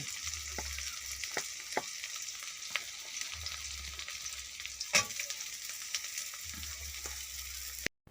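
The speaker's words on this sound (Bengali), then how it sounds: "পেঁয়াজগুলো একটু ভাজা ভাজা হয়ে গেছে, এরপরে দিয়ে দেব আলু" Onions and potatoes fry in a pan with oil, giving a steady close sizzle broken by a few sharp clicks and knocks of a stirring utensil, with no voices.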